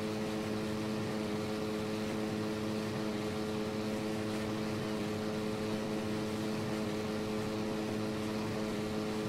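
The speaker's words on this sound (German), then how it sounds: "Heli." A helicopter in the video game Arma 3 drones steadily throughout, a continuous engine and rotor hum with strong low tonal bands and no talk over it.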